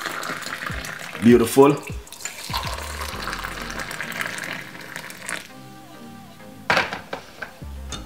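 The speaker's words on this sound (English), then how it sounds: "we're just going to simply pour in our hot water" Hot water poured from close by into a drink mixture while preparing a recipe, a steady trickling and splashing that runs for several seconds under a speaking voice.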